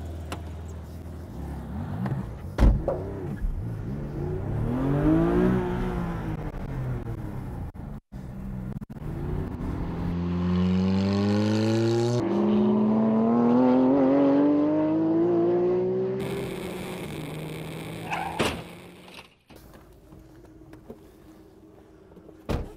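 A car pulls away and accelerates hard on the Aérosphalte track at La Ferté-Gaucher, the engine climbing through rising gear sweeps with a steady, strong roar before easing off near the end.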